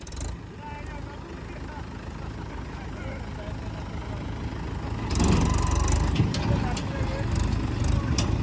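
A Mahindra 575 tractor engine running nearby, a steady low rumble that grows louder and rougher after a few seconds, with people talking over it throughout.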